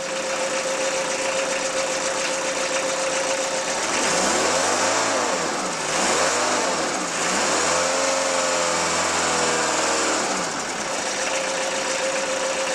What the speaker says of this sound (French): C'est génial les vibrations d'un diesel.